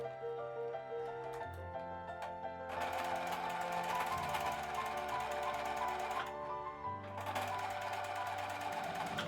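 Sewing machine stitching a ribbed cuff onto a sweatshirt sleeve, its steady motor hum running throughout and rising in speed and intensity partway through, with a brief slowdown before picking up again; no talking.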